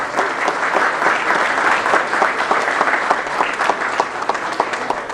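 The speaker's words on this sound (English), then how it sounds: "So a big round of applause for them and their volunteer work" Sustained applause from a crowd at a Liberal campaign launch rally in Markham-Thornhill, steady and loud with dense overlapping claps and no break across the stretch.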